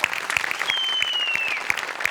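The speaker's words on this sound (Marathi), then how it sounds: "प्रसाद खांडेकर साठी जोरदार टाळ्या." Audience applause for Prasad Khandekar on a Marathi comedy show stage, a steady dense wash of clapping that runs the whole time with a faint whistle over it.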